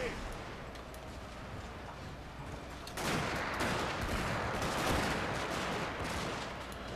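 A massed musket volley in the Total War Shogun 2: Fall of the Samurai video game, a dense rolling crackle of gunfire that swells partway through and holds under a continuous battle din.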